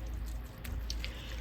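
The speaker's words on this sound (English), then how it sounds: "let me just add a little bit more water." Water being poured into a pot of baked beans with peaches, heard as a soft, faint trickle and a few small drips close by over a low background hum.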